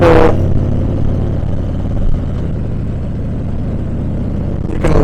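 A 2018 Harley-Davidson Heritage Classic with the 114 engine lopes along in sixth gear at low RPM, a steady, close, rumbling drone that holds level for the whole stretch with no voices.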